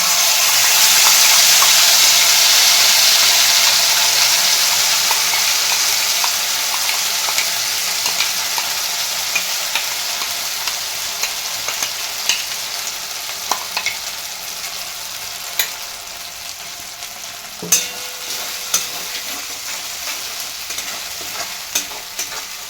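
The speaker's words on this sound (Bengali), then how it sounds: "এবার আদা, কাঁচা লঙ্কা, টমেটো, কাজু বাদাম, চারমগজ, পোস্ত যে পেস্টটা করে রেখেছিলাম ওই পেস্টটা এবার দিয়ে দেব" Ginger, green chilli, tomato, cashew, melon seed and poppy seed paste frying in a pan for capsicum paneer, a loud steady sizzle that slowly eases, with occasional clicks and stirring scrapes near the end.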